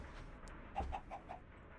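A chicken in the video game Minecraft gives a few short, quiet clucks in quick succession, alone over a low background hum.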